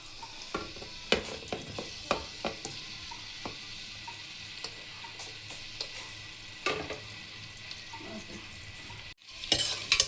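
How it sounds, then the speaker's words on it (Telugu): Golden onions frying in ghee in a pan for mutton dum biryani, with a steady low sizzle under repeated sharp scrapes and clinks of a spoon stirring, close by and without talk. "ముందుగా అయితే ఆనియన్స్ని బాగా ఫ్రై చేసుకున్నాం గోల్డెన్ కలర్లో."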